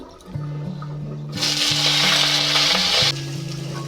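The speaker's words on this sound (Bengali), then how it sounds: "তেল দিয়ে পাঁচ ফোড়ন দিলাম" Panch phoron spices sizzle in hot oil, a hissing burst that swells in the middle and then cuts off, heard over steady tonal background music.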